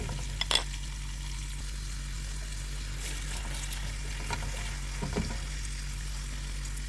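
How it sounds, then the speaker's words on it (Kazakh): Onions frying in about two tablespoons of hot oil for zucchini caviar, a steady close sizzle with a low hum beneath it and a few faint clicks of stirring. "Қызған майымызға пиязымызды салып,"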